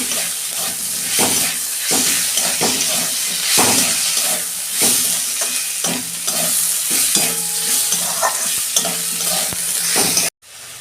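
Green chilli and ginger-garlic paste sautéing in a pan for a Bengali fish-head cabbage dish, with a loud constant sizzle broken by repeated scraping stirs of a spoon, ending abruptly.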